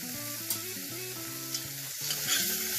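Tomatoes and turmeric powder are stirred in a frying pan of spinach daal base, a quiet steady sizzle with a few soft scraping knocks of the spoon against the pan.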